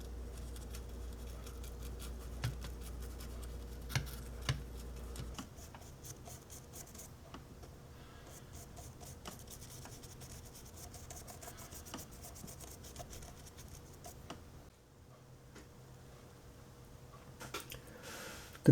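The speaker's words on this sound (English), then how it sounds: "with this brush, I'm going to simply apply the mud onto the chassis" A brush applying tile grout mud onto a model tank chassis, heard as soft, close dabbing and scrubbing strokes, quiet and continuous with a few light taps.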